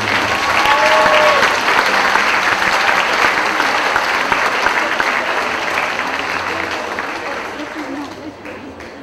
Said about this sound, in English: Please join me in giving a big round of applause to all the doctoral graduates